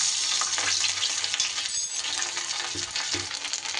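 Ginger paste fries in ghee over a spice tempering, a steady loud sizzle broken by scraping stirs and a few light clinks of the spoon against the pan.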